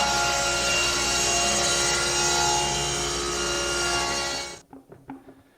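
A saw rips wooden boards lengthwise for cabinet-making, a loud, sustained whining cut that runs close and unbroken, then stops abruptly, leaving a few faint knocks and handling sounds.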